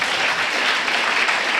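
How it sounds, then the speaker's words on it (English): Steady, dense audience applause at an AA speaker meeting, loud and continuous throughout. "I want to give Rob a really big round of applause for a really good talk"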